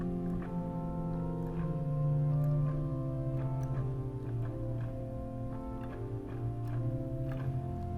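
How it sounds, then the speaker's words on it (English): The pipe organ at Old St. Patrick's Cathedral in New York City sounds on its pyramid diapason stop, a soft, round tone playing slow chords and a melody alone, with a steady level and cathedral reverb. "Then we've got a pyramid diapason,"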